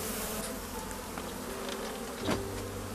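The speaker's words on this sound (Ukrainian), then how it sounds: "Бачите, льот пчоли є." A steady buzzing drone of many honeybees flying close by at a hive entrance in spring, continuous throughout with a slight swell near the end.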